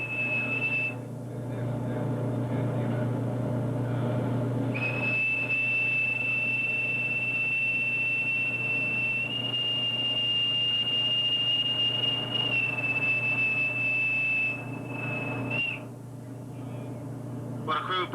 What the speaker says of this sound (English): A blaring whistle that seems to go on for minutes is broadcasted on the ship's PA system